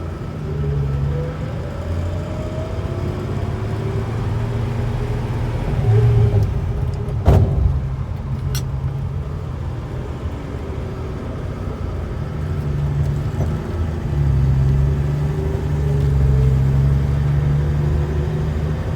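A 1968 Ford Mustang with a three-speed transmission drives along, its engine a steady low rumble with mild swells in revs and a couple of brief clunks midway, no talk.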